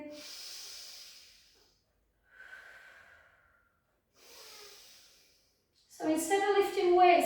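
Soft, airy breaths come and go in three slow, quiet waves during a pilates session, each a gentle in or out breath, followed by someone speaking.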